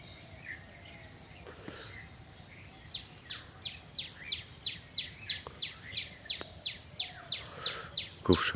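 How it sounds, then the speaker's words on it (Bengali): Birds sing all around on a cloudy early morning near a building site, a bird repeating a rhythmic run of bright chirps over a steady insect-like drone, moderately distant and with no talking. "অনেক সুন্দর পাখির ডাক চারদিকে"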